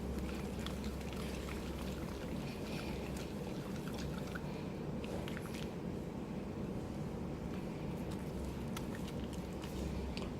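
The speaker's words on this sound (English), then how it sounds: "I just dip it in the water and I'm trying to wash it." Bar of hot process soap dipped and swished in sink water, giving a steady, close watery sloshing and trickling that runs throughout without pause.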